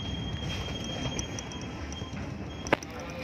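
Local economy passenger train arriving at Cepu station in Indonesia, heard from inside as a steady rolling rumble with a faint high whine, light rhythmic ticks and a brief sharp squeal or clank near the end, no talk.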